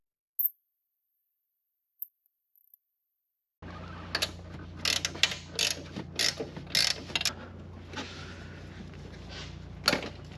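A hand ratchet working loose the downpipe bolts on a 2015 Subaru WRX STI, with a few isolated clicks followed by sustained rapid ratcheting and sharper metallic snaps, close and clear under the car.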